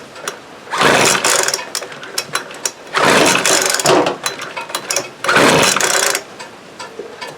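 Three separate bursts of a Weed Eater FB25 leaf blower's small two-stroke engine being pull-started with the choke set: rough, ratcheting sputters each lasting about a second, with quieter gaps between them.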